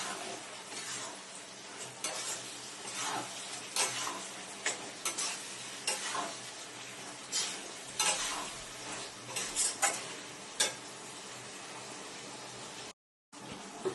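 Chilli chicken sautéed in a pan with chilli, soy and tomato sauces gives a steady sizzle broken by repeated scraping stirs and light utensil clicks, close and loud throughout with a brief silent gap near the end.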